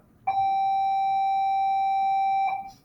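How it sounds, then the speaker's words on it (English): A school bell sounds during an open house: one sustained electronic tone, loud and steady for a little over two seconds, then stopping abruptly. "sorry about the bell"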